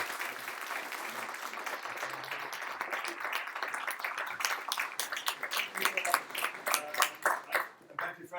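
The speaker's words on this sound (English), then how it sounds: "give them all a warm applause" A conference audience at the HealthTech Nordic Conference claps for a panel, starting as a dense steady wash and thinning into scattered, more distinct claps toward the end.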